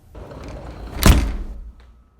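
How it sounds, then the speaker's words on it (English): A glass door slams once, a sharp heavy thud followed by a brief rumbling decay, recorded close on an iPhone microphone in an otherwise quiet space. "I like the way slamming this glass door sounds."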